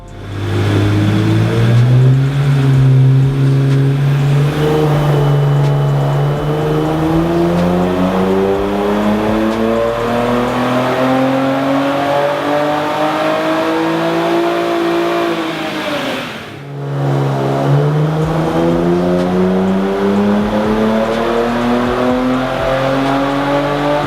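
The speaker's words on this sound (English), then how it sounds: "Today we tuned this Q60 Redsport with aftermarket downpipes and exhausts using the ECUTEK platform with Sasha" An Infiniti Q60 Red Sport twin-turbo V6, tuned with aftermarket downpipes and exhaust, pulls hard on a dyno, its engine note climbing steadily through the revs, briefly lifting off, then rising again, loud and close with no talking.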